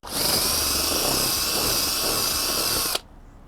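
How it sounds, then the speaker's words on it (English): A power drill spins loudly and steadily for about three seconds while enlarging an existing hole in a wooden board for a Halloween trick-or-treat chute, then cuts off abruptly into near silence. "I want to make the hole a little bit bigger than I already had drilled in this wood here"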